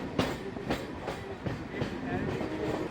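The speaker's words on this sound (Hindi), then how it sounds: "ये एक लोकल ट्रेन है जो बालीगंज से निकली है और आगे सियालदा होते हुए आगे जाएगी।" Kolkata local commuter train running between Ballygunge and Sealdah, heard from inside with a steady rumble and regular clickety-clack wheel beats on the rail joints, loud and continuous, with faint voices in the background.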